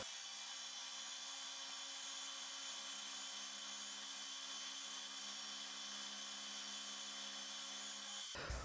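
A mini lathe cuts a 0.7mm strip from thin steel glued to an aluminium arbor, giving a faint, steady high-pitched whine and hiss that runs unbroken for about eight seconds before stopping abruptly.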